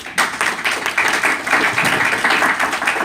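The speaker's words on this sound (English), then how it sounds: "Another round of applause for Hector." Steady crowd applause at a professional association meeting, a dense wash of many hands clapping at once, sustained at an even level for a few seconds.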